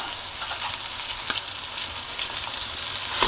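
A steak sizzles and roasts in a hot pan seasoned with fresh thyme, giving a continuous even crackle and hiss, close and uninterrupted, with a few sharper pops near the end.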